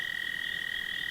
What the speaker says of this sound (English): The crickets are singing, the frogs are singing